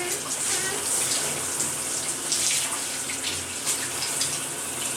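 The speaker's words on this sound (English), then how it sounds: "put in a hot shower" A hot shower runs steadily in a bathroom, its spray hissing as a continuous, even wash of water with no pauses from start to finish.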